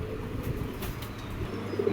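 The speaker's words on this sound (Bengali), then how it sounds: "দেখেন কবুতরগুলা ছটফট বেশি করতেছে" Restless foreign racing pigeons coo softly nearby and rustle about, with a low murmur of cooing and light movement.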